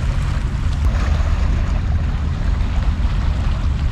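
Sea waves wash onto Rakah beach in Al Khobar, Saudi Arabia, as a steady, loud surf roar mixed with wind buffeting the microphone, continuous throughout with no voices.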